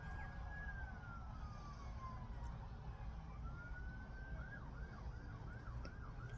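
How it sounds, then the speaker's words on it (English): Wailing emergency sirens rise and fall in the distance, sweeping slowly at first and then in quicker yelps, over a steady low background rumble. "Lovely sirens going around."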